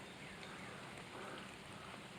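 Steady rain falling on trees and water beside a lake, a dense, even hiss that fills the whole moment without a break, with no other sounds standing out.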